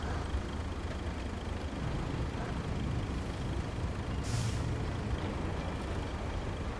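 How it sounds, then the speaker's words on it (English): Heavy Baikal dump truck in the Road Craft video game tipping a load of sand beneath trailer axles, a steady low engine rumble with a brief hissing burst partway through, continuous and fairly loud. "Gonna try to dump this right under the trailer axles."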